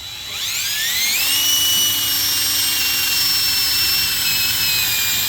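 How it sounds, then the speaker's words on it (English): A high-pitched drill winds up quickly and then holds a steady, piercing whine while boring into the center of a cut-off wheel, loud and close, with no voices. "If you run your little drill bit in there, down the center."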